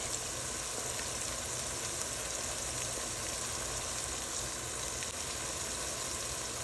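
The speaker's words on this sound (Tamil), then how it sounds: "இப்போ வெங்காயம் அரை வதங்கள் வதங்கிட்டது" Onions sautéing in a pan for a country crab curry, a constant soft sizzle and hiss held at an even level throughout.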